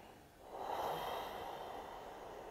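A single slow ujjayi yoga breath, the throat narrowed to make a soft ocean-like rushing hiss that swells and then eases, close and quiet.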